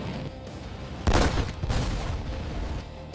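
AMRAAM missiles launch from fighter jets with open weapons bays, a sudden loud whooshing roar that bursts in after a low rumble and then trails into a sustained rushing thunder.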